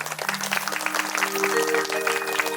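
An audience at a Shrimad Bhagavat Katha religious discourse claps in a continuous, lively burst, with a steady sustained tone running underneath the applause.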